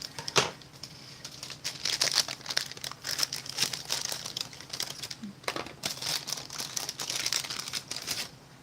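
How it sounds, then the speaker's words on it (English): Cracker packet from a Chef 5 Minute Meals pasta fagioli military-style ration being cut open with scissors, its plastic wrapper crinkling and rustling in close, steady bursts with brief snips, no talking. "I'm just going to use my scissors to open this."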